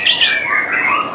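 White-rumped shama (murai batu) delivering a brief, loud, close song phrase of sliding whistled notes that descend in pitch, heard alone.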